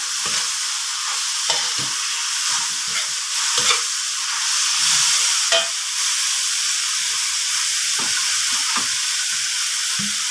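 Bean sprouts, tofu and fish strips are stir-fried in a hot pan, a loud and continuous hiss of oil with frequent scraping knocks from the spatula, close and busy throughout.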